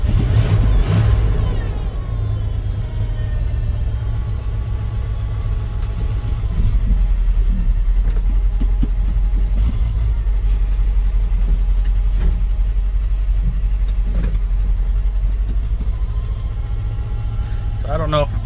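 A 1986 Ford F250 farm truck, just revived after ten years off the road, runs with a steady loud engine drone close by, its low rumble holding level throughout while voices talk faintly over it.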